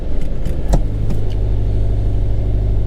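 A Subaru BRZ's engine cranks and catches after a transmission install, then settles into a steady, close, low idle rumble with no other sounds.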